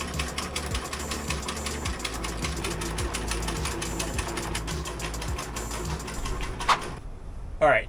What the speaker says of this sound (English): It'll be interesting to see how powerful this sewing machine is.